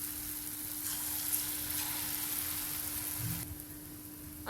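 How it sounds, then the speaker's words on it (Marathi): Moong bhaji batter fries in hot oil over low flame, a steady close crackling sizzle with a constant faint hum beneath and a brief soft clunk near the end. "आता बारीक गॅसवर आपण भजी काढून घेऊया"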